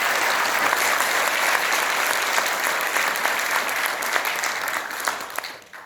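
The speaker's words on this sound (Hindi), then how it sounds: "तो जोरदार ताली बजा के स्वागत करें" An audience at a motivational class claps loudly and steadily to welcome a speaker. The applause is thick and continuous, then tapers off near the end.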